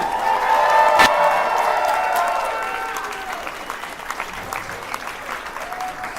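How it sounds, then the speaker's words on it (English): Audience at a dance competition clapping and cheering for the performers, loud crowd applause with a sharp whoop near the start, fading gradually into scattered claps. "One big last round of applause,"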